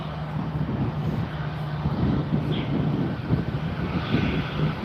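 Douglas DC-3 airplane taxiing at Fort Lauderdale airport, a steady low piston-engine drone heard from a distance outdoors, with wind buffeting the microphone throughout.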